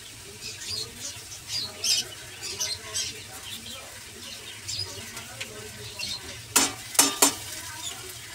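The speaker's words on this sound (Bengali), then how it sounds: "আর এই আলুটাও লাল লাল করে ভাজা" Potatoes fry in a pan with a steady low sizzle while a spatula scrapes and stirs in repeated strokes, closing with a few louder clattering scrapes.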